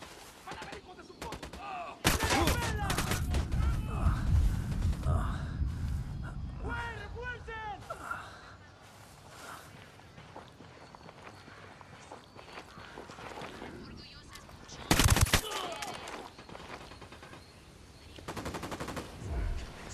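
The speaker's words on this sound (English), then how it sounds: "Opening fire." Gunfire in the video game Ghost Recon Wildlands comes in sharp bursts of shots, with one loud volley near the start and another near the end, amid footsteps and talk from characters.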